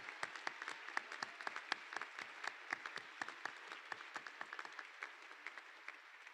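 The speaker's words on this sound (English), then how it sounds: "let's give the other classes of the upper school a round of applause" Applause at a 2021 upper school prize day assembly, a sparse scattering of individual claps from a modest group, quiet and somewhat distant, thinning toward the end.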